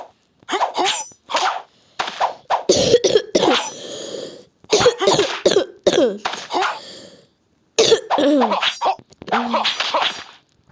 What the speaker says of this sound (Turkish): oh çok öksürüyor.